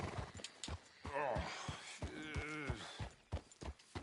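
A horse snorting and whinnying with hoof clip-clops, close by, while someone talks over it.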